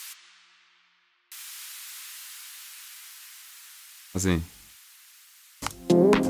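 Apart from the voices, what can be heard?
downlifter synth sound effect with long release, Ableton Operator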